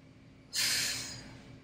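A single sharp breath during a barre workout, one close, breathy rush of air rising suddenly and fading over about half a second against a quiet room.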